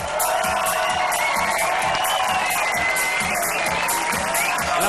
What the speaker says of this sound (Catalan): Vull que li rebeu una ovació, tots els que esteu aquí